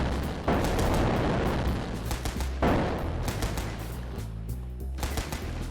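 Loud, dense gunfire and explosions from the video game Pecaminosa, with rapid overlapping bursts and heavy booming blasts sustained throughout and no voices.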